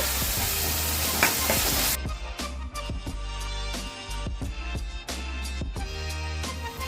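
Green peas sizzle loudly as they drop into hot oil in a pan for bun dosa filling, then settle into a softer, steady crackle broken by repeated sharp scrapes and clinks of a spoon stirring.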